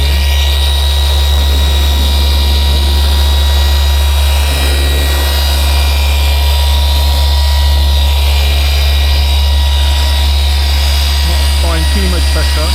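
Steady high-revving drone of a machine polisher working over Fiat Panda bodywork, loud and constant throughout with a faint whine on top.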